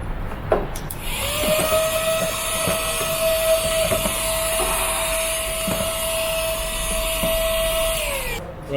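A vacuum cleaner runs continuously with a steady high whine inside a BMW car, sucking up leaves, with occasional rattles and knocks from debris and the nozzle.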